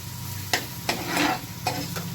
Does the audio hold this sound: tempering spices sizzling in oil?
yes